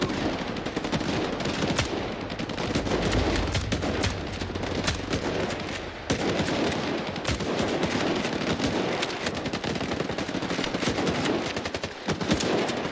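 Dense, continuous video game gunfire, rapid automatic bursts overlapping into a loud roar that barely lets up, with no voices.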